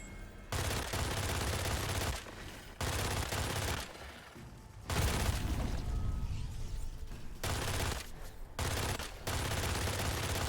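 The Rotweaver machine pistol in Witchfire fires in long, rapid bursts, loud and close, separated by short pauses in a dense, rattling stream of shots.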